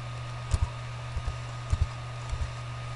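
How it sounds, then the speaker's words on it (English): Short bursts of computer keyboard typing as numbers are entered, a few quick clustered keystrokes repeating at intervals over a steady low hum. "type 1829 on your keyboard"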